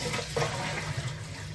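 Water from boiled potatoes pours out in a brief rushing splash as the pot is drained, close by and fairly loud.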